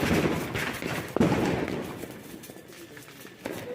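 A photo flash firecracker goes off during Diwali celebrations, giving a couple of sharp cracks that ring out against a noisy outdoor background.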